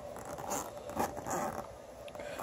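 A zipper is pulled along a RoadPro soft-sided cooler in a few quick rasping strokes, close and moderately loud, with no talking.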